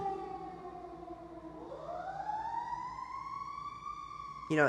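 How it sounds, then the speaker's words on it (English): A wailing siren slides down in pitch, then climbs and holds a steady tone, loud and sustained, before an abrupt burst of noise at the end. "Siren."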